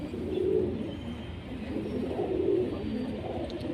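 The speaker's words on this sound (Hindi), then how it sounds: "ये बहुत आउट क्लास कबूतर है।" Prized fancy pigeons, a breeding pair, coo in low, steady rounds close by, a soft continuous murmur with no one speaking.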